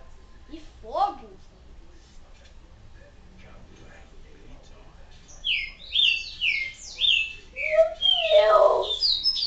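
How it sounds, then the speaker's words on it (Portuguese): Bright bird chirps from Resident Evil 4 rise in a rapid cluster of high tweets toward the end, after quieter sounds and a voice earlier on. "Que passarinho chato!"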